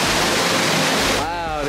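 Loud, dense rushing of an indoor waterfall at an aquarium pours steadily, then drops off near the end as a voice briefly speaks over it.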